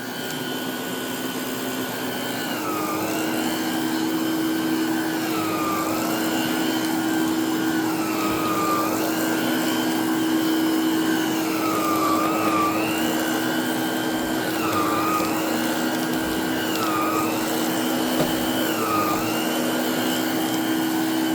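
An Electrolux Renaissance vacuum cleaner runs steadily nearby, a loud whooshing motor drone with a sustained hum and whining tones that swoop down and back up repeatedly as airflow shifts.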